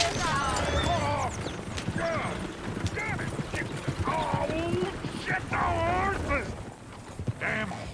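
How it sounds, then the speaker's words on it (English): Horse hooves clip-clop in Red Dead Redemption 2 game audio, a steady galloping patter mixed with voices talking over it. "Damn horses!"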